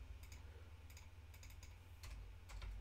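Quiet typing on a computer keyboard during a coding session, with scattered bursts of soft key clicks and a steady low hum underneath.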